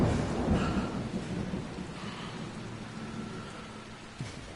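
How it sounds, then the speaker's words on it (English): Heavy rain and rolling thunder from a thunderstorm in the game Dying Light, a steady wash of downpour with low rumbles swelling and fading, continuous and fairly loud. "the thunderstorm should actually stop at some point"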